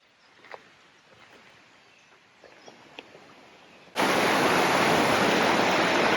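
Close roar of the Waimea Valley waterfall on Oahu, Hawaii, cutting in abruptly about four seconds in as a loud, steady rushing wash after a quiet stretch with a few faint scattered taps.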